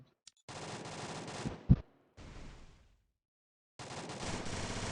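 Gunfire in the mobile battle game Free Fire comes as several rapid automatic bursts of fairly loud shots, separated by short silent gaps, with a sharp single impact between the first two bursts.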